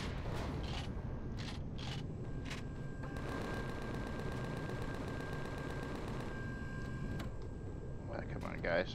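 Turrets fire in the space survival game Empyrion Galactic Survival as a rapid, continuous stream of mechanical gunfire. Dense game sound effects play throughout, and a voice talks over them.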